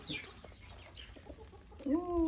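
Farm chickens cluck softly in scattered short calls, ending with a louder, longer drawn-out hen call close by; no speech.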